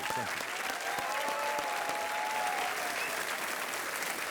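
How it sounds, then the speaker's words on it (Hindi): A quiz show studio audience claps for the remaining contestants, a continuous thick roar of hands at steady loudness, with faint whistling or cheering tones weaving through. "एक बार हमारे जो कंटेस्टेंट्स बाकी बचे हैं उनके लिए तालियां बजाएं।"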